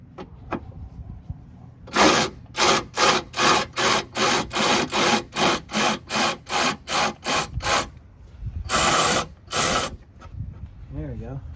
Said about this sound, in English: So we're going to take these nuts off.